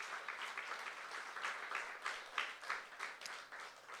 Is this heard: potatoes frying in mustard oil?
no